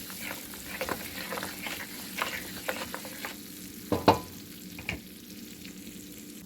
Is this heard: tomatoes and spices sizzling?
yes